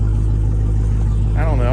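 Dodge Hellcat engine running through its mufflers, a loud, deep, steady exhaust rumble close by, with someone speaking over it near the end.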